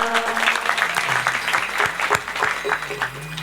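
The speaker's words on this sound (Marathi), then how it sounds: "जोरात टाळ्या वाजवा" A kirtan audience claps in a brisk, dense burst for a comedy kirtan preacher, applause filling the space with a voice talking faintly beneath.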